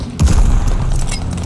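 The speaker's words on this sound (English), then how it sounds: "Friendly bombing run on the way." Bombing run explosions in Call of Duty Vanguard: a heavy, low boom followed by rolling, rumbling blasts that continue loudly through the short moment.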